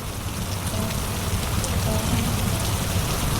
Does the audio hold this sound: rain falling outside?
yes